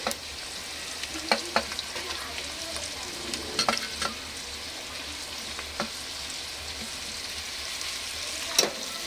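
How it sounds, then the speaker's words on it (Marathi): Carrot, capsicum and cabbage are stir-fried in a hot pan, giving a steady close sizzle broken by intermittent sharp scrapes and clacks from the spatula, with no talking. "तर सर्वात आधी आपण गाजर, शिमला मिरची आणि कोबी टाकून घेऊया।"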